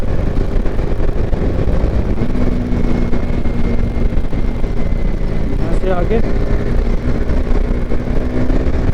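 Bajaj Dominar 400 motorcycle ridden fast on a road, a steady loud roar of engine and wind rushing over the microphone throughout, with a rider's voice speaking briefly partway through.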